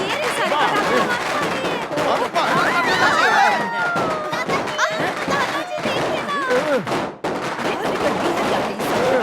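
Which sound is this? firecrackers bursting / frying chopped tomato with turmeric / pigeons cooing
firecrackers bursting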